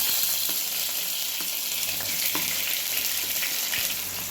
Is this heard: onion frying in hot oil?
yes